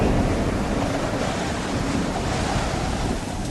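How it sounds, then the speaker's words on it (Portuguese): Strong wind blows across open sea near the coast of Crete, mixed with crashing surf, a constant loud roar with no voices. "um vento muito forte"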